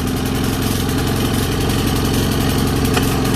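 A Poulan walk-behind push lawn mower, an older imported unit, runs its small engine at a steady, loud drone with an even buzzing pulse throughout and no talking.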